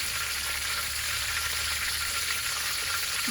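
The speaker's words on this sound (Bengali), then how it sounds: "আস্তে জিরে আধাটা চামচ এখন আমি এটাকে ততক্ষণে নাড়ব যতক্ষণ না এখান থেকে একটা ভালো সুগন্ধ না বের হয়" Half a spoon of cumin seeds fries and crackles in a pan while being stirred, a constant close bright sizzle without a break and with no talking, for a pangas fish curry.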